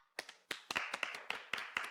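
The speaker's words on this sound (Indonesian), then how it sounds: "Ayo, kita berikan tepuk tangan untuk keberanian Shueman." A small burst of applause, a handful of sharp, separate hand claps in an uneven rhythm, close and fairly quiet against a silent background.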